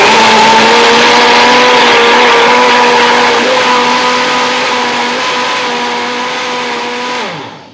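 A blender whizzes strawberries into a smoothie with a loud, steady, humming whir that gradually slows slightly before cutting off near the end.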